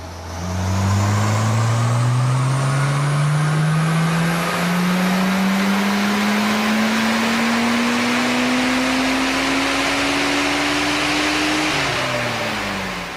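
A tuned HPI R34 Skyline engine running on 0.7 bar of boost with the standard intercooler roars on a dyno, its pitch climbing smoothly through the revs for about twelve seconds before dropping off, loud and close.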